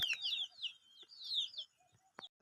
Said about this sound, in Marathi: कोंबड्या पण आता खायला घालायला वाट बघायला लागल्यात